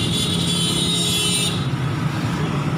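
Busy street traffic in Pakistan, with motorcycles, rickshaws and chingchi carriers passing, makes a constant engine rumble and road noise. A high tonal whine or horn is heard in the first half, then fades into steady traffic drone.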